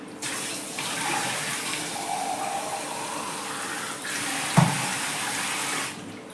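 Water pours steadily into a pan of cauliflower curry as it is being cooked, a continuous splashing gush that runs for several seconds with one brief clunk near the end, and no talking over it.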